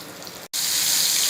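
A loud, steady sizzling hiss of soya chunks frying in hot oil, broken by a brief cut before the crackling resumes.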